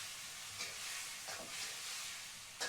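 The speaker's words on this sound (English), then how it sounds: "Look at my dinner cooking, my lunch." Food cooks in a pan at a café in Thailand, giving a steady, fairly quiet sizzle and hiss with a few brief stirring scrapes.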